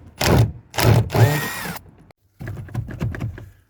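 Power driver with a slipping bit trying to wind a screw back out, several bursts of whirring and ratcheting grind separated by a short pause, close and fairly loud, with no talking.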